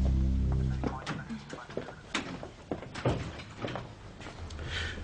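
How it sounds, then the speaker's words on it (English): A door closes with thumps and clatters amid an indoor scene in a country police station drama, while a person speaks close by over the handling noise. "Close the door."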